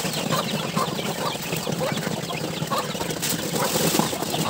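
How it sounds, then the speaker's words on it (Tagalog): A flock of 45-day-old chicks clucks and peeps steadily at close range, with busy overlapping calls and some rustling and wing flapping throughout. "Ito po yung ating mga 45 days na sisiw."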